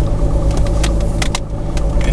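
A car is out on a test drive after its drive shaft U-joints were replaced, giving a steady, close low rumble of engine and road noise inside the cabin with no voices.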